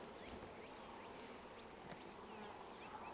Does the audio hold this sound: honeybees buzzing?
yes